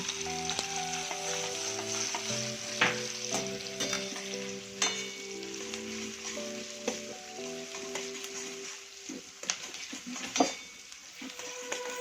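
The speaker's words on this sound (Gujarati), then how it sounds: "ત્યારબાદ મરચાંને આમાં એડ કરીશું. એમાં ડુંગળી નાખીશું." Chillies and onions sizzle steadily in hot oil over a high flame for street-style Schezwan fried rice, with occasional stirring scrapes and a faint tonal layer like background music.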